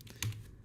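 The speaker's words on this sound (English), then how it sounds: "Hit the return key on your keyboard" A single return key is pressed on a computer keyboard, making one short, soft click that is quiet and close.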